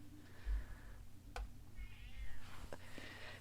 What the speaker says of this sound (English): You hear my poor sad cat back there?